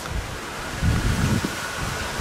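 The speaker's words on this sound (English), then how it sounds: "Look at how windy it is." Steady wind roars and buffets the microphone by the shore, with surf rumbling underneath; no voices, just a continuous blustery wash of noise.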